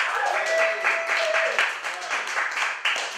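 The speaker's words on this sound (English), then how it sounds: "You can clap for that." Comedy club audience claps and cheers in a dense, steady burst of applause lasting a few seconds, fairly close, with a voice briefly rising through the crowd noise.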